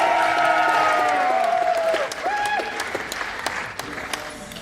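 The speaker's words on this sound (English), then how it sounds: "Give the sexy lady a round of applause." An audience applauds and cheers for a contestant at a live show, a loud burst of crowd clapping with whoops that tapers off. A sustained tone or music runs beneath at first, and a voice cuts in near the end.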